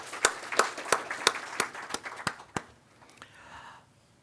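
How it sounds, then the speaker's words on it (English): A small handful of distinct, evenly spaced claps from an audience at an institutional finance session, about eight sharp hits in a slow rhythm that stop after a couple of seconds, leaving faint room noise. "Yeah, big round of applause to him"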